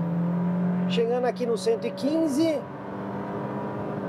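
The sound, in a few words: Volkswagen Virtus accelerating at full throttle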